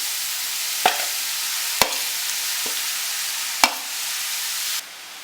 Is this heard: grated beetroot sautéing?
yes